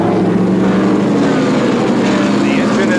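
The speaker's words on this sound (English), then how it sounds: "The engine has been restarted, and now Darrell Waltrip goes back out" A stock car engine restarts and runs at the North Wilkesboro speedway during the 1987 First Union 400 NASCAR race, a loud steady engine drone that fills the whole span, with a voice talking over it.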